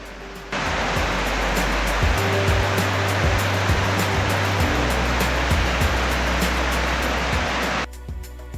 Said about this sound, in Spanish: por la que se precipitan sus aguas con gran estruendo en épocas de intensas lluvias